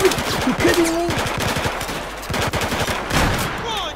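Rapid bursts of automatic gunfire shooting an enemy in the video game Battlefield 4, loud close shots in quick clusters with short gaps.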